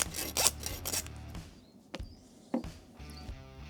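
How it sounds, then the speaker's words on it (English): Handsaw rasping through goat rib bones during butchering, a few close, short back-and-forth strokes with brief gaps between them. "we're going to use our handsaw and just handsaw through these bones"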